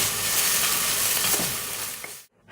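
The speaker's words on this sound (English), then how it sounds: "Hear it sizzling." Onions sizzle steadily in a hot pot while cooking loaded baked potato soup, a dense crackling hiss close up that fades out abruptly near the end, with no talking.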